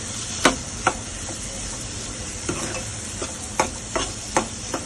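Malvani masala paste with kokum being stirred in an oily pan for an aluchi patal bhaji, a low sizzle under a series of sharp scraping spoon strokes at uneven intervals, with no talk.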